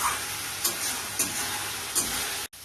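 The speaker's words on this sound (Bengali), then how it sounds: "একটু সময় এটাও লাগে মশলাটা ফ্রাই করতে" Spice masala stirred and frying in a pan for stuffed bitter gourd, a steady close sizzle with a few scraping stir strokes and a brief break near the end.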